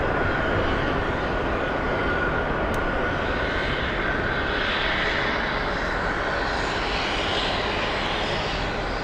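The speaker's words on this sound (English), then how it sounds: "JetBlue 652 in the Boston Red Sox livery, arriving 20 minutes early." JetBlue 652 airliner in Boston Red Sox livery arriving from Orlando, a loud continuous roaring jet engine rumble that stays steady and close throughout.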